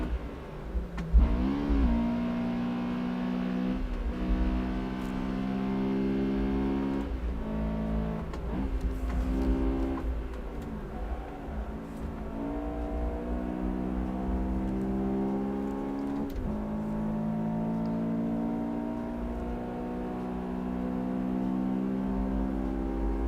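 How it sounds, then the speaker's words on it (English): A Honda Civic Type R engine in a driving video game, drifting: loud, continuous revving with rising and falling pitch sweeps and brief gear-shift drops, the engine heard alone and up close. "Drifting Civics, bro."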